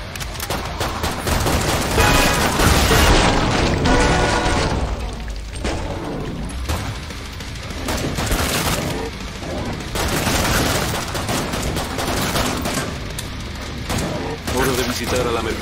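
Dense, continuous gunfire from Killing Floor 2 on a West London map, with rapid automatic bursts, heavy booms and crashes layered together, loud and close, under occasional game voices.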